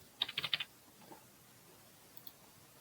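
Account login and password typed on a computer keyboard, a quick burst of about five close key clicks followed by a couple of faint taps, otherwise quiet and with no talk.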